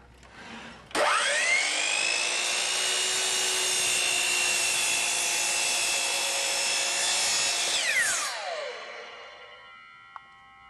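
A Hitachi C12RSH miter saw spins up with a sharp whine, holds a loud, steady high-pitched cut through wood for about seven seconds, then winds down as the blade slows.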